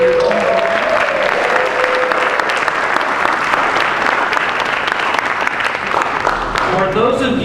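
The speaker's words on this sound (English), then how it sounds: "How about a round of applause for our senior adult program?" Audience at an outdoor Shakespeare theatre performance of As You Like It breaks into sustained, loud applause with crowd noise, steady clapping filling the whole stretch with a few brief tones near the start.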